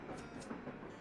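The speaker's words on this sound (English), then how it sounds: "Oh, it's the train ride." Faint train ride in a Pokémon video game, a soft steady rumble of rolling rail cars with light rhythmic clatter over about a second, no voices.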